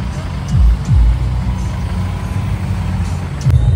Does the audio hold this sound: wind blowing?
no